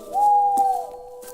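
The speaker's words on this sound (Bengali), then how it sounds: "শিয়ালা রাত পাখির আওয়াজ ভেসে আসছে" A night bird in a Bengali ghost cartoon, heard as one clear, sustained hooting call, loud and close, with no talk over it.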